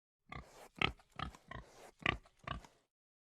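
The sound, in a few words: pigs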